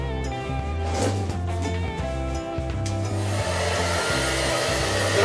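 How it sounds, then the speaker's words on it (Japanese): A hair dryer blows steadily on bicycle handlebar tape on a Bianchi Via Nirone 7 road bike to soften it for removal. The constant airflow hum is partly masked by rhythmic background music with a prominent bass line. "一度ドライヤーでバーテープを温めていこうと思います"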